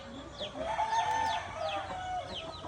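Roosters and hens, including a Brahma rooster, cluck and call repeatedly at a moderate distance, several overlapping bird voices with rising squawks over faint background noise.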